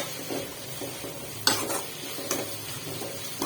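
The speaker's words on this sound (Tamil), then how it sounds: "நல்லா கொஞ்சம் வதக்கட்டும்" Salt is stirred into a pan of sautéing ingredients for a fish curry, with a steady low sizzle and a couple of sharp spoon scrapes against the pan.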